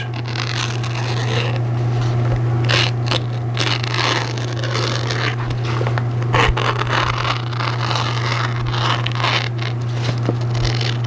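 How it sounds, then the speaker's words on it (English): Repeated rough scraping and snipping as scissors cut through heavy aircraft covering fabric on a Piper Super Cub wing, close up, over a constant low electrical hum. "Let's see how much of this I can cut with the scissors."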